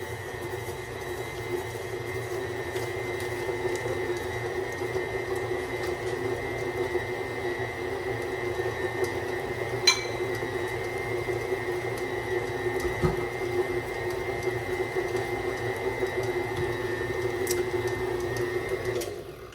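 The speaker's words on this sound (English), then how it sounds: "We're gonna lower our mixer, lock it in place, and turn it on and cream these 2 together." A stand mixer creams butter with an allulose monk fruit sweetener blend for chocolate chip cookie dough, giving a steady motor whir and hum that runs unbroken for the whole stretch, with a few faint clicks.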